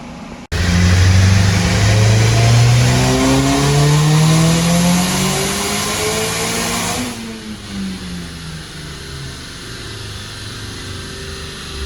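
A loud Nissan Cube engine revs up continuously with rising pitch for several seconds during a dyno pull, then winds down, close and sustained.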